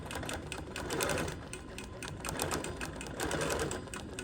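A sewing machine quilts along a ruler, tracing a star shape. The needle chatters quickly and continuously at close range, with the speed swelling and easing slightly throughout.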